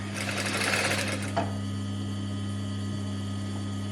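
A sewing machine runs a quick burst stitching a vest seam with a six millimetre seam allowance, loud for about a second and a half before stopping, leaving a steady mains hum.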